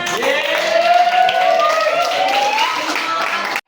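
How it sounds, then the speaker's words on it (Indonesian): A class of students claps their hands in a classroom, a quick, close patter of clapping with a voice sounding over it, ending abruptly. "Bagus, tepuk tangan."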